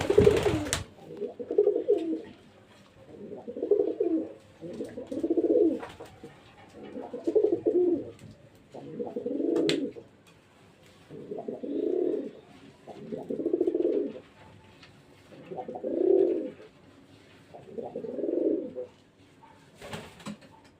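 Pigeons cooing at a pigeon farm, about ten evenly spaced soft coos in a slow repeating rhythm, close and fairly clear against a quiet background.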